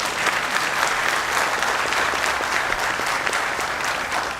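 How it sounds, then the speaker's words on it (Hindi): Loud, sustained applause from a big audience at a bank officers' union annual general body meeting in Pune, thick continuous clapping that stays strong from start to finish without speech. "जोरदार ताली बजाइए।"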